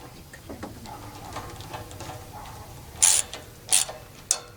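Ratcheting clicks from a wrench tightening bolts on the valve cover of a Champion generator, three short sharp bursts near the end after quieter handling noise, close and fairly loud.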